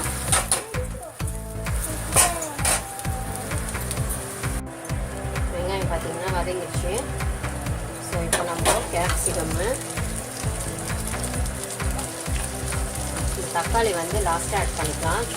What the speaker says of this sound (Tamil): இன்னும் கொஞ்சம் ரோஸ்ட் ஆகட்டும்